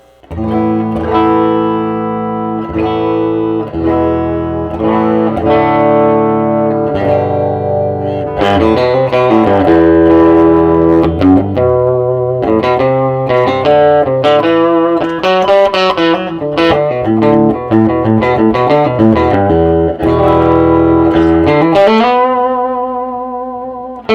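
An electric guitar plays chords and melodic runs through a slightly overdriven small 1950s–60s vintage practice amp, loud and close, with light reverb and no voices.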